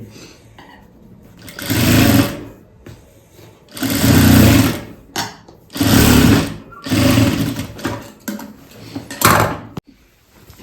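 Sewing machine stitching the hem of a blouse sleeve, running in about five loud bursts of steady whirring with short quiet pauses between them.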